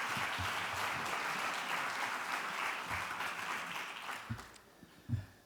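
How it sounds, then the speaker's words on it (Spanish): Conference audience applauding as speakers head up to the stage, dense clapping that holds steady and then thins out into a few last scattered claps. "Un fuerte aplauso"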